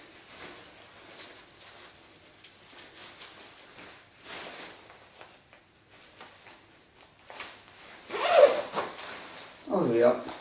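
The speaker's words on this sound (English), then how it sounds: "Okay, that's fastened, that's just a normal zip." Zip being fastened on the inner waterproof liner of a BMW Rallye Suit motorcycle jacket, with soft zipping rasps through the middle and two louder, closer pulls near the end, under someone talking.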